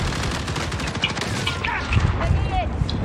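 Rapid bursts of automatic gunfire crackle continuously in a Call of Duty Warzone match, layered with game effects and a voice talking over the shooting.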